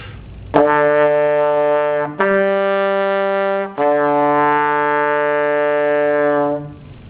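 A trombone sustains three long, steady tied notes in a row, each held evenly with only brief breaks between them.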